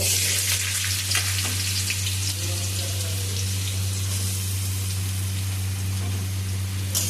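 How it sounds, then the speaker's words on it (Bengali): Potatoes sizzle steadily in hot white cooking oil in a wok (kadai), a constant loud hiss with a low hum beneath it. "আমি সাদা তেল কড়াইয়ের মধ্যে দিয়ে দিয়েছি। এবার আমি কেটে রাখা আলুগুলোকে দিয়ে দেব।"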